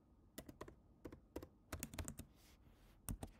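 Quick, irregular keystrokes as a computer password is typed on a Mac keyboard, about fifteen crisp, close clicks in short bursts with brief pauses between them.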